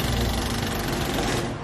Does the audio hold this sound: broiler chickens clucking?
no